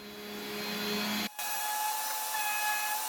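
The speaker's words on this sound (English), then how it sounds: "So we're going to lightly sand them down, get them all smooth and level." A power sander smooths the edges of a wooden kitchen backsplash before Formica is applied, a steady loud whirring drone that cuts out for a moment and then resumes.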